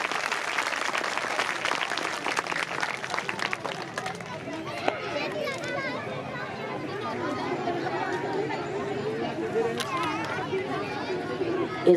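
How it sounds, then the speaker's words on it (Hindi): An audience at a school annual prize distribution ceremony claps loudly for several seconds, then the applause gives way to crowd chatter and talking. "एक जोरदार तालियों से उनकी हौसला अफजाई करें।"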